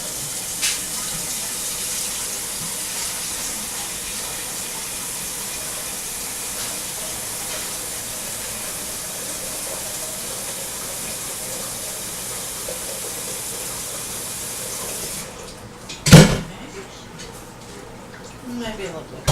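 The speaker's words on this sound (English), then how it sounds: "why are you filling that pan up?" Tap water runs in a kitchen to fill a pan, giving a steady, even hiss for about fifteen seconds before it stops. A sharp, loud clank follows, then quieter handling sounds.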